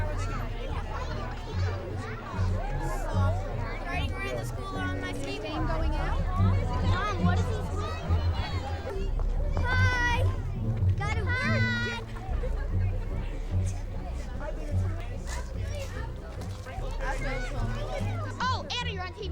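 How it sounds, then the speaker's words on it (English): Crowd of adults and children gathering outdoors for a school Halloween parade, a steady hubbub of overlapping chatter and kids' voices close by, with a nearer voice speaking over the babble. "The crowd is assembling and the excitement mounting as we await the start of the parade."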